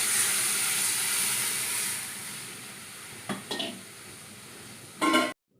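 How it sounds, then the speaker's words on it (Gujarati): Buttermilk and gram flour batter poured into hot oil seasoned with asafoetida for a Gujarati drumstick kadhi, giving a steady broad sizzle that fades, then brief clattering stirs and a short loud burst near the end. "છાશ અને ચણાનો લોટ જે આપણે મિક્સ કરેલો હતો એ તેલમાં એડ કરી દીધો"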